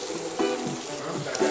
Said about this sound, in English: We're gonna cook this down until it's nice and sweated down.